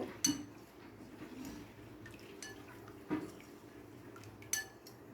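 Ghee-laced chicken biryani being stirred in a cooking pot, heard as a few sharp metallic spoon knocks against the pot over a low, steady background, with no voices.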